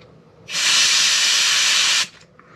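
A steamer jets steam onto a damaged foam RC plane, giving one loud, steady hiss of about a second and a half that starts and stops sharply against a quiet background.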